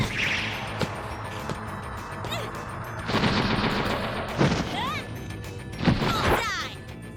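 Gunfire in a Steins;Gate anime scene, repeated sharp shots and crashing impacts in several clustered bursts over a busy, loud soundtrack with voices mixed in.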